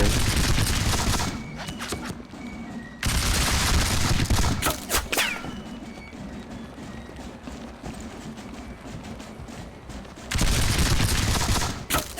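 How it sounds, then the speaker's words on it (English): Musket volleys in a War of the Austrian Succession strategy game burst out as loud, dense crackling fire, with a quieter stretch of scattered shots and clattering between two heavy bursts. "Do a little shooting down here."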